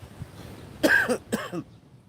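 Two short, harsh coughs close to the mic, one right after the other, with quiet room tone before and after.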